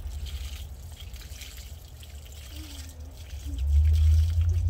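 Tap water running at home while a child helps, a faint, steady trickle with a low rumble that swells louder near the end, and no talking.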